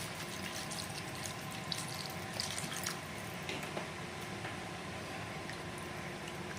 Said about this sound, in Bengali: আর এখন সময় হয়ে গেছে পরিমাণ মতো জল দিয়ে নেওয়ার।